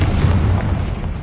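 A Confringo blast spell explosion in the Hogwarts Legacy video game, a loud deep booming burst that rumbles on with no talk over it.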